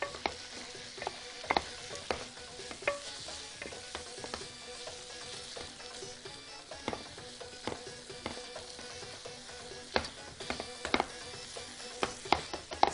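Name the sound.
canned corned beef heating and breaking apart in a pan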